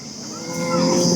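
Kangeyam breed cattle at an evening cattle market in Kannapuram give one loud, close, sustained moo that swells over its length.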